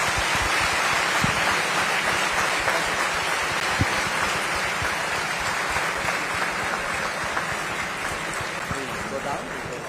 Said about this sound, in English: please join me in a warm round of applause for Dr.